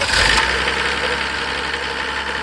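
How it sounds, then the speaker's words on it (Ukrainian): A Mercedes OM603 3.0-litre diesel engine powering an irrigation motor pump runs steadily at idle, a loud, close, continuous mechanical drone with a slightly knocking texture and no talk. "Гріємо свічки і запускаємо."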